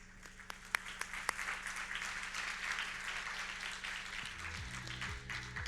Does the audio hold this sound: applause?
yes